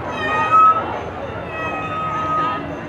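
A performer in a circus clown golf routine imitates a cat with a loud, drawn-out vocal meow, heard over a live audience murmur and stage chatter.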